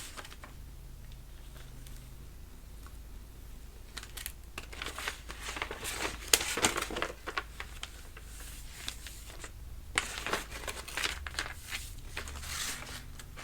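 Scissors cutting through paper for a homemade gift bag, with rapid crinkly snips and rustling in irregular bursts, close and fairly quiet, louder in the middle and again near the end.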